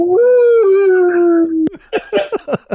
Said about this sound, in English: I apologize if you're hearing a couple of dogs whining in the background